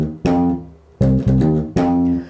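Reggae bass guitar plays a bass line phrase: three clean, deep plucked phrases of low notes with short gaps between them, close and alone with no voices.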